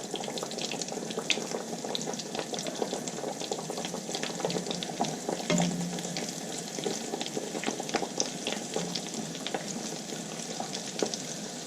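Mattar kachori, small pea-stuffed pastries, fry in oil that is not yet very hot, giving a steady, even sizzle with faint bubbling throughout and no voices.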